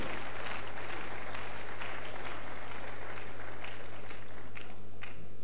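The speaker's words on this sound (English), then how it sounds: "Please, let's keep clapping for them as they come up" A church audience claps steadily as a women's group comes up to the front, a thick continuous wash of many hands with some muffled crowd noise beneath.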